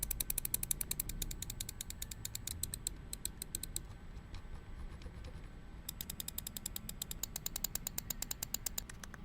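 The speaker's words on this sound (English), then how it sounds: "Let's listen to the clicks here." Crisp button clicks from an LTC GM024 lightweight 61-gram gaming mouse come in rapid, evenly spaced bursts, pause briefly, then resume, quiet and close with no voices.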